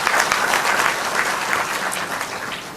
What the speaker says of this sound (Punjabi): ਮੈਂ ਸਭ ਤੋਂ ਪਹਿਲਾਂ ਇਸ ਸਕੂਲਸ ਦੇ ਲਈ ਉਹਨਾਂ ਦੇ ਪ੍ਰਿੰਸੀਪਲਸ ਸਾਰੇ ਸਟਾਫ ਲਈ ਜ਼ੋਰਦਾਰ ਤਾੜੀ ਦੀ ਮੰਗ ਕਰਦਾ ਹਾਂ